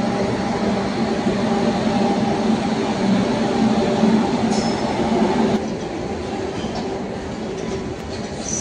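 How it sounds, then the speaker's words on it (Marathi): A freight train rolls past on a local rail line in a loud, continuous rumble with brief squealing wheel tones, the roar easing slightly after the midpoint. "हॉर्न आला आम्हाला ट्रेनचा, तर आली मालगाडी डायरेक्ट"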